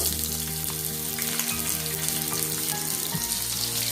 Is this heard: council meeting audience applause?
no